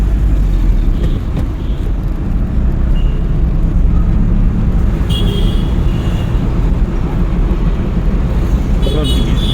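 A car runs in third gear during a driving lesson, its engine and road noise forming a continuous close rumble inside the cabin, with an instructor and learner talking over it.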